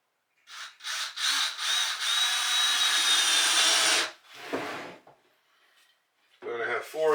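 A power drill driving a screw into a wall stud for kitchen cabinets whirs steadily for a few seconds in short bursts then one long run, close by, followed by a brief voice.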